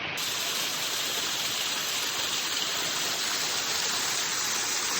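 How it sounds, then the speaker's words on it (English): Waterfall in the Hoh rainforest, a steady broadband rush of falling water that holds at an even, close level throughout with no talk. "And just this waterfall is super charming."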